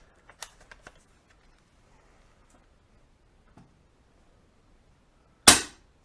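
An airgun fired in a studio, a single sharp crack late in the recording with a short decay, preceded by a few quiet clicks of handling.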